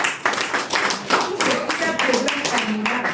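A group claps hands in applause for a product, sounding as a continuous run of close, crisp claps with voices talking over it.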